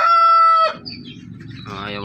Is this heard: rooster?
yes